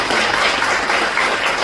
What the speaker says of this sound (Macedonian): Уште еден аплауз и да го поканиме.